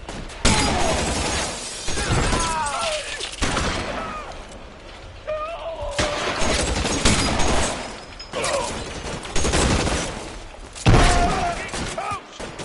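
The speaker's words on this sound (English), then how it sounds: "из дробовика прикольно стреляет" Shotgun blasts crack repeatedly through a police shootout in a crime video game, broad bursts scattered across the scene amid in-game voices and radio chatter.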